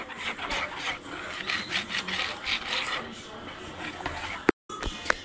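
Chocolate cake batter stirred with baking powder in a bowl, a close rhythmic scraping and sloshing of a utensil against the bowl, followed by a short knock at the end.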